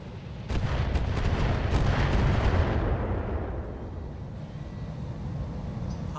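LRM missile fire pounds a Rhino mech in a BattleTech game: a heavy rolling barrage of booming impacts erupts at once, holds loud for a couple of seconds, then tapers into a lingering low rumble.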